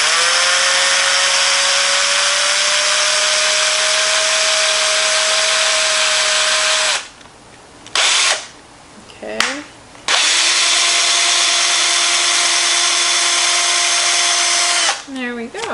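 A power drill whines steadily for several seconds drilling a hole in wood, pauses, gives two brief bursts, then runs again at a lower pitch before stopping. Loud and close.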